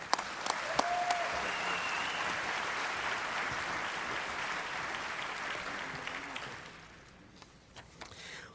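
An audience applauds an awardee at a college leadership congress opening session, loud sustained clapping that tapers off over the final seconds, with a few faint voices near the end.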